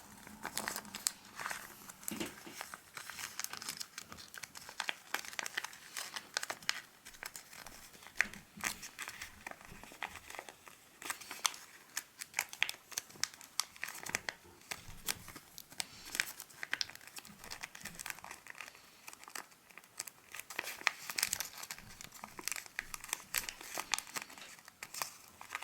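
Paper folded into an origami ladybug, close and quiet, with continuous crinkling, creasing and rustling in irregular bursts throughout.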